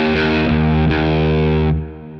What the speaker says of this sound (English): That's producing a very fat sounding overdrive.